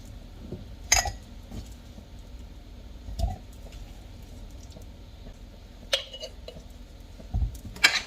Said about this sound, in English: Now that the peaches are all done being peeled, I'm going to spoon in the slices.